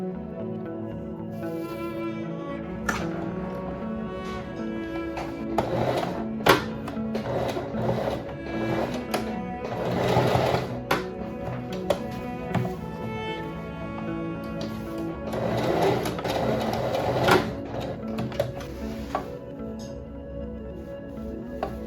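Sewing machine stitching the lining of a dress bodice, a close mechanical whirring hum in several bursts with sharp clicks and knocks between runs, and no talk.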